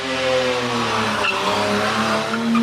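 Car skidding with its front wheels locked up on a mountain touge road, a sustained tire squeal with engine tone lasting the whole stretch, loud and close, no talk.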